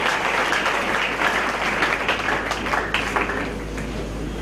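A church congregation applauds together in acclamation, producing steady, dense clapping that fills the room and tapers slightly toward the end, with no voices.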